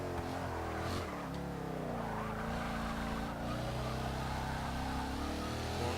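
A 2012 Bowler EXR S engine pulls hard in Forza 6, a loud continuous rising and falling engine note with harmonic whine, steady and close, with no talking.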